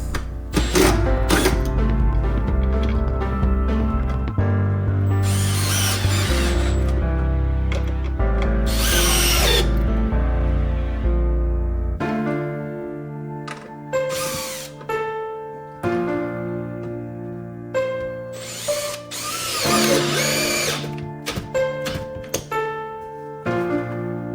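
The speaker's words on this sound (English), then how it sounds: "I'm just going to take the screw out, move it over a couple inches or inch, and then put it back in again" A power drill backs a screw out of a 2x4 and drives it back in. Loud, close motor whine comes in sustained bursts with shifting pitch, separated by brief pauses and softer tool handling.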